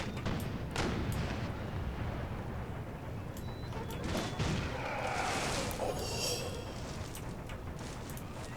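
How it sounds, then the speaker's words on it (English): Distant booms and sharp cracks of musket and artillery fire in an Empire: Total War battle, irregular volleys over a continuous rumbling backdrop. "That's extraordinary gunfire there"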